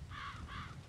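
Two harsh crow caws in the video game ZombiU, one after the other, standing out clearly over a low rumbling background drone.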